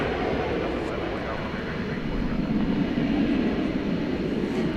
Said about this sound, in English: American Flight 633 coming in from Phoenix, Arizona. And Airbus A321.